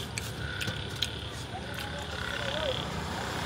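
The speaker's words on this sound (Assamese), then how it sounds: "কাষতে আছে পানী পুৰা ভেকুলীবিলাকে তৰ তৰ কৰি আকৌ পানী মাতি আছে" Frogs croak and chirp steadily near water through a constant outdoor hiss, with a few brief higher calls rising above the background.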